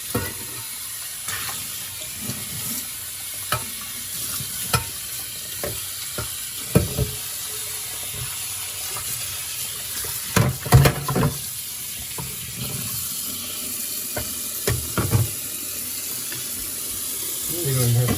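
Hot tap water runs while a Breville Juice Fountain Elite juicer is rinsed at a sink, a steady close splashing stream broken by clunks and knocks of juicer parts being handled.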